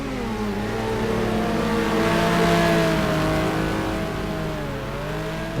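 Race cars lapping Spa in a sim racing video game roar continuously, a loud engine drone that rises and falls in pitch as they accelerate, with no talking over it.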